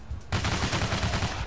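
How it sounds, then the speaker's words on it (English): Gunfire in Payday: The Heist, a sudden burst of rapid automatic shots starting abruptly and continuing as a dense, loud rattle for over a second. "Ah, someone's shooting me."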